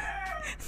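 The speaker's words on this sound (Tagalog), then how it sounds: "Pasensya ka na, may manok." A chicken crows close by in one brief, bright call, heard alone with no speech.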